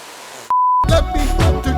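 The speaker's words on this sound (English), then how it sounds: "We end it with the bars and tones." A bars-and-tones broadcast test signal gives a single steady pure beep of about a third of a second, loud and clean, then a burst of noisy broadband sound follows.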